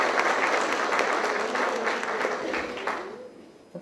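Audience applause at a public speech, clapping for civilian women in honour of women serving in uniform; dense, sustained clapping for about three seconds, then fading out.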